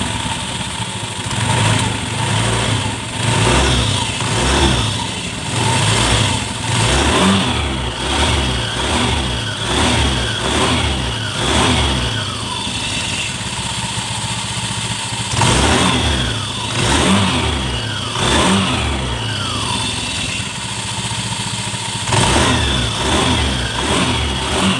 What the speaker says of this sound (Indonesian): Ini saya starter ya, saya hidupkan motornya.